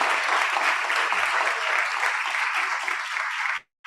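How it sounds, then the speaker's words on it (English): Conference audience applauding at a healthcare summit, a dense, steady round of clapping that holds evenly for several seconds, then cuts off sharply into near silence. "ladies and gentlemen, a round of applause and thanks to Dr."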